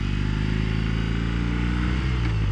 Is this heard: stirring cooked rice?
no